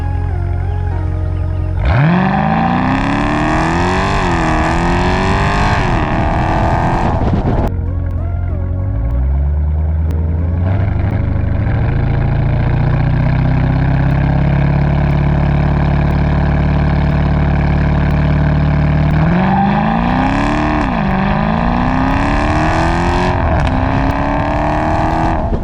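A 2020 Dodge Challenger 1320 Scat Pack V8 roars loudly and close, revving up in a rising sweep, dropping briefly, then holding a sustained high-rpm drone before launching with another sharp climb in pitch; no talking.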